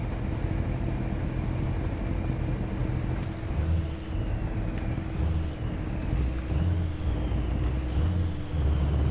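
A heavy truck in Euro Truck Simulator 2 rumbles steadily at low pitch, and a short air hiss from the handbrake comes near the end. No one speaks.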